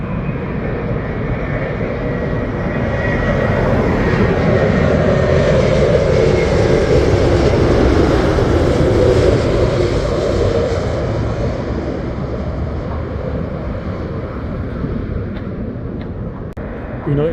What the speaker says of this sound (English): Virgin Atlantic Airbus